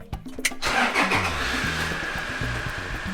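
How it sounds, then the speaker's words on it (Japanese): A camper van engine cranks briefly with a few rapid churning beats, catches, and settles into a steady, close idle hum. "じゃあエンジンかけてみます"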